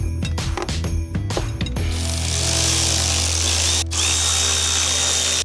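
A power tool fastens the battery hold-down clamps in a Mazda 2, first short bursts of ratcheting, then a loud sustained whirring drive with a brief break near the end, heard up close with no speech.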